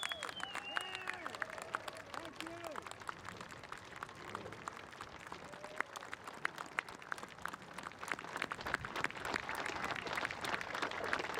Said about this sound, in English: One more round of applause for all our World War II veterans.